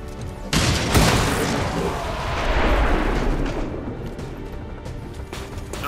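A weapon fires in X-Com 2, a heavy booming shot with a rumbling blast that swells and fades over several seconds, loud and close, with no talk.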